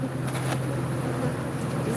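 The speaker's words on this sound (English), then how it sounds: "These bees are quite angry all over again." A mass of angry, agitated bees keeps up a close, continuous buzzing drone throughout, with no pauses.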